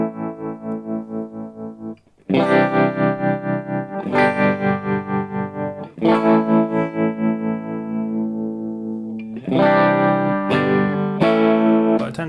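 Electric guitar played through a modulation pedal set to a sine wave with the depth turned up, giving strongly pulsing, wobbling chords with a distorted edge, strummed in several loud bursts separated by short pauses.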